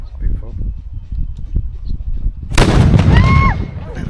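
A cannon fires once at Old Fort Niagara with a sudden, loud, booming blast that rolls on for over a second, after a stretch of people talking and shuffling nearby.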